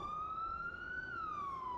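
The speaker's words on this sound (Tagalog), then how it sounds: "may ambulansya" An ambulance siren in Bali, Indonesia wails as one long rising and falling tone, faint and distant over a low background rumble.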